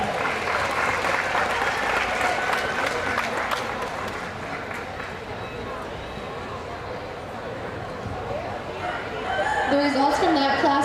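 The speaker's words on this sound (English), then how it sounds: "Give them a round of applause to head back." Applause from a county fair show audience fills the event center, a dense, loud wash of clapping that holds for about ten seconds, with voices and a rooster crowing mixed in toward the end.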